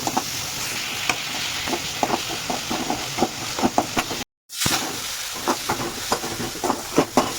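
Food fries in a hot pan until golden brown, giving a steady close sizzle with scattered crackles and stirring scrapes that runs throughout, broken by one brief silent gap midway.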